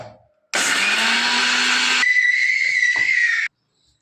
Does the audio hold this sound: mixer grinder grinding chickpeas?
yes